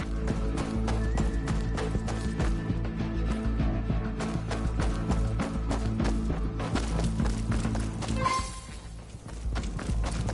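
Hooves clop steadily under a dense layered soundscape, with a horse whinnying briefly near the end, in the video game Fortnite.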